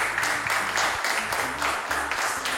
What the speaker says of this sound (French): Est-ce que vous pouvez applaudir pour Fréjus très très fort?